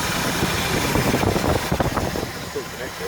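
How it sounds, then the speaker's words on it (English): A Ford Fairlane ZK's engine runs under a steady broadband rumble for about three seconds, close and fairly loud, while a person speaks over it. "It's a nice little engine."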